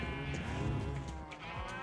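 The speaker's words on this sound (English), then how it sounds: "here's a sheep farm, you know, automatic and whatnot" Sheep bleat on an automatic sheep farm in Minecraft, a couple of wavering, nasal bleats close by over a soft background, with no voices.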